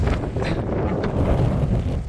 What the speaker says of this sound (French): Le vent est dingue.